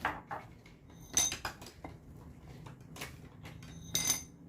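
Hi-Lo dice dropping and rattling inside a shaker, the size-five dice settling unevenly: several sharp, hard clicks and clatters spaced irregularly, fairly quiet and close, with no talking.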